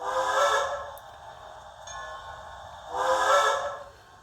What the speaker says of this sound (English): Then we got the short whistle.